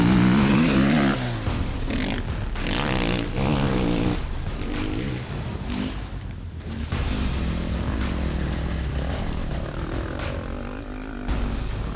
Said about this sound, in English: paying attention to what Toby said about standing up and letting the bike move from under me